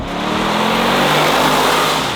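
A 2020 Mercedes-AMG G63 with a straight-pipe exhaust holds a loud, continuous engine roar at high revs, heard close up and without a break.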